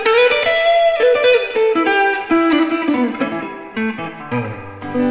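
An electric guitar plays a sustained melodic line through a high-end Vivie Callion overdrive pedal with heavy reverb, smooth singing notes ringing out and blending into long washy tails, played alone without speech.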